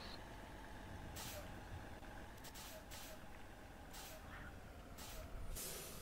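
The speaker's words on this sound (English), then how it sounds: "Oh, I hear your bus." A bus heard faintly over a phone line, its engine droning low and steady while several sharp air-brake hisses come through in short bursts.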